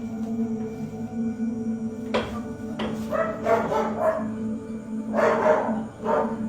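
A few sharp dog barks ring out at intervals over a steady low hum, some close together, with a short cluster of yips near the end.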